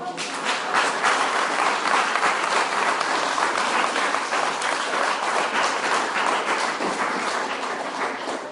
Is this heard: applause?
yes